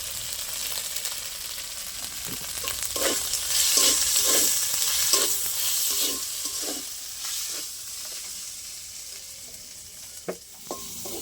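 Chilli and ginger paste frying in a pan: a steady close sizzle with a series of regular spoon scrapes and taps as the spices are stirred, fading slightly toward the end, no voices.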